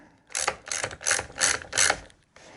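Ratcheting clicks while snugging a nylon insert nut on an EGO Rapid Reload AH1530 trimmer head, five short bursts of rapid clicking in an even rhythm, close and alone.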